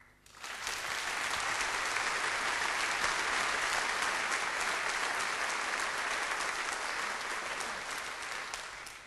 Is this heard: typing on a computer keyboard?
no